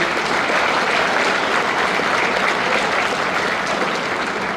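Loud, dense clapping from an audience at the inauguration of a multimodal cargo terminal, continuous and evenly sustained throughout, close and filling with no talk over it.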